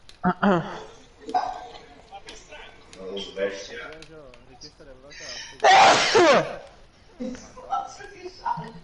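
One sudden, forceful sneeze bursts out close to the microphone in the middle of casual, overlapping chatter and laughter among several people.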